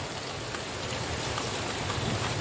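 Steady rain pouring down on a rural farm, a dense unbroken hiss of drops hitting surfaces, close and even throughout with no voices.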